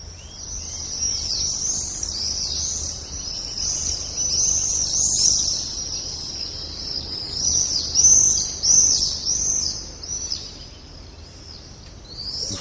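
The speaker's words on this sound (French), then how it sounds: "Nous sommes ici dans un parc, on a entendu quelques oiseaux." Birds chirp and sing steadily in a park at the Vallée aux Loups, their high calls overlapping in a continuous chorus that swells and fades at moderate distance, with no voices.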